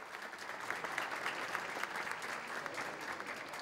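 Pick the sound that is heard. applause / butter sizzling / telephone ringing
applause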